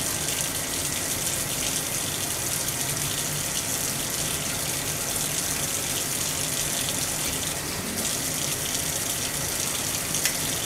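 Water runs loudly and steadily while a dirty part is cleaned, an unbroken close rush with no voices.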